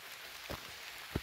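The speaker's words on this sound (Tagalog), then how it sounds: "Grabe, umuulan na." Rain beginning to fall during a forest outing near Puerto Princesa, heard as a steady broadband hiss of drops on leaves and surfaces with a couple of brief louder thumps of heavier drops, no voices.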